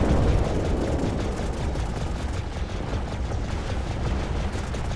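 Sustained mech weapon fire in MechWarrior Living Legends during a Capellan attack on Saiph, a dense continuous roar of gunfire and blasts with no clear breaks, loud and steady throughout.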